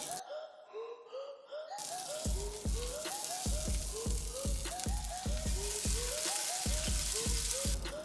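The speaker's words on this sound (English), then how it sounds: "Sizzling!" Lamb shank browning in an Instant Pot gives a steady, crackling sizzle that starts abruptly and continues loud and even, with soft rhythmic pulses running underneath.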